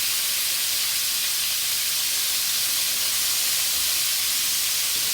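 Lamb sizzles steadily in a hot oiled pan aboard a yacht while browning for Greek tacos, a loud, continuous close hiss without pause or voices.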